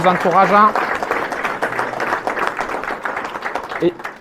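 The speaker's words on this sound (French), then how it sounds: "on peut les applaudir pour leur engagement" Applause at a village mayor's New Year address in Léran, France: a full crowd clapping steadily and fairly loud after a brief spoken phrase at the start, fading slightly toward the end.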